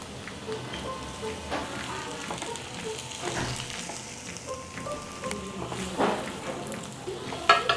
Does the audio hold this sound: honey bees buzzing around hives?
no